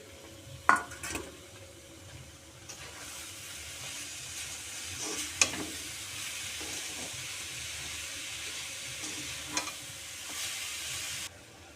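Grated coconut is stirred into sugar syrup in a wok. A utensil scrapes against the metal a few times over a soft, continuous sizzle, close by and with no voices.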